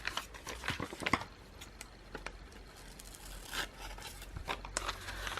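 Scissors snipping through paper while trimming a piece to size for a Dylusions art journal page, heard as sparse, close, soft crisp cuts and scrapes with quiet rustling between them.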